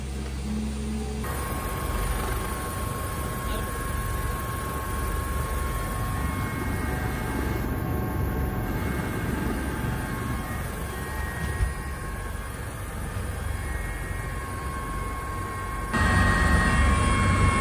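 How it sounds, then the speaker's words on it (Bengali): A helicopter starts up as its overhead rotor blades begin turning. A loud, continuous engine and rotor roar holds steady and close for the whole stretch. "হেলিকপ্টার স্টার্ট দিচ্ছে"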